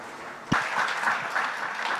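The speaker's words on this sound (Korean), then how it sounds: "큰 박수를 대한민국 그리고 주최측에게 보내주시길 바랍니다." Audience applause breaks out at the close of a two-day international conference session, a sudden burst of clapping from many hands that then holds steady and fairly loud.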